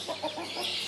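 Several hens of an old-bloodline backyard flock clucking softly and repeatedly at close range while being fed, a short run of low calls with no talk over them.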